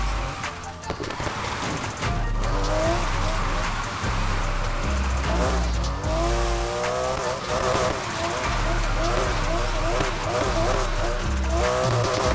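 Porsche RSR race car in Need For Speed Heat drifting uphill in third gear, its engine droning and straining steadily throughout, with tire hiss and a rain-like wash beneath, while someone talks over it.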